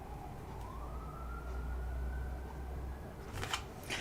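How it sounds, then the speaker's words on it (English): An ambulance siren passes outside, a sustained wailing tone that holds steady and fairly loud over background rumble before giving way to other noise near the end. "Ambulance just went by."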